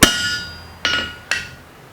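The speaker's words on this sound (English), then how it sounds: "all I have to do is place the rivet on the edge of the anvil" A hammer strikes a rivet set on the edge of an anvil three times. A loud ringing hit is followed by two more spaced blows, each with a short metallic decay.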